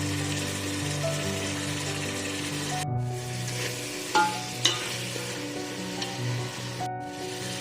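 Tomato and onion paste frying in a pan with turmeric for tomato rice bath, a steady close sizzle and bubbling hiss with a couple of sharp utensil knocks from stirring, no talking.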